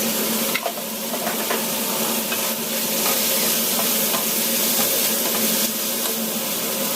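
An egg frying in a pan, loud continuous close-up sizzle and hiss with occasional light knocks, no talking.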